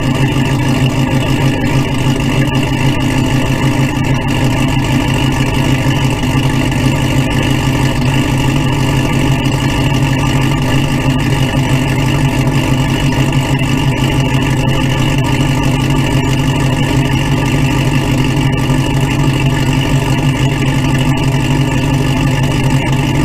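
An old vehicle engine idling down after sitting with 15-year-old gas, a steady close rumbling idle that hums evenly and alone without any change.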